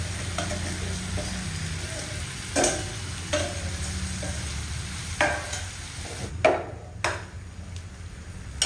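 Steady sizzling of masala spices frying in a pan for a paneer curry, with occasional clinks and scrapes of a utensil stirring; no talking.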